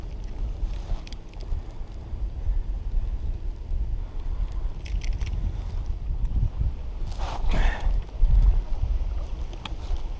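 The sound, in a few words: strong wind on a lake while fishing from a kayak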